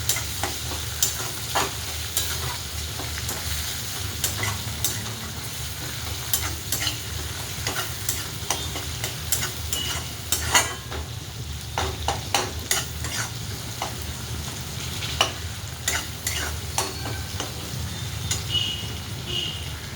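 Spoon stirring roasted tomatoes into sizzling masala in a pan, a steady frying sizzle with repeated scraping and clicking strokes throughout, close and fairly loud with no talking.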